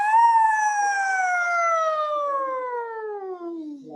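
A student's voice performs a tongue-out siren exercise in a voice class, one long sustained tone gliding slowly downward from high to low pitch, imitating a siren, alone and clear.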